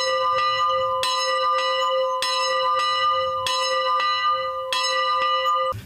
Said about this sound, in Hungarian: Ez a harang 1926-ban épült a Kálvária dombra.